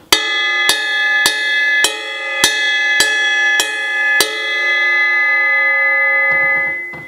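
The bell of a drum-kit cymbal is struck eight times at a steady pace, each hit ringing bright and sustained, the final tone left to decay slowly.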